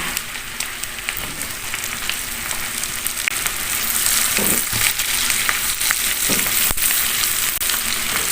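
Sliced round eggplant sizzles in a pan as chilies are tossed in, a bright continuous frying hiss with scraping stir sounds and soft knocks, growing a little louder midway.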